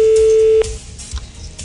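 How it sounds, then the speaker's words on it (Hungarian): A telephone signal tone on a live Hungarian radio call-in show, a steady single-pitched tone that cuts off abruptly, followed by low room noise. "Na most Zsoltán csend a telefon."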